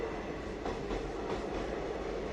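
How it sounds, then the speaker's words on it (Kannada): A train rumbles past nearby in the rainy season, a steady heavy roll with faint rhythmic wheel clacks over the track and no voices. "ಅದಕ್ಕೆ ಹೆಂಗಿದ್ರು ಇಲ್ಲೇ ಐತಲ್ಲ ಟ್ರೈನ್"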